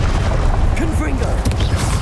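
Confringo spell blast in Hogwarts Legacy, a loud booming burst with crackling impact noise over a rumbling background, brief and close, while a voice is heard in the mix.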